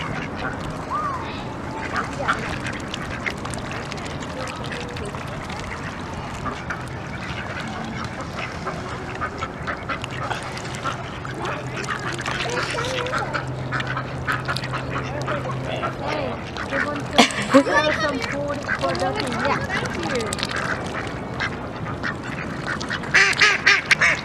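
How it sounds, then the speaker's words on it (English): Ducks quack repeatedly in a noisy outdoor scene, some calls close and loud, with people chatting intermittently in the background. "Ducks."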